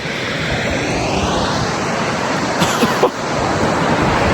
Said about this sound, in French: Oh, c'est énorme la cascade.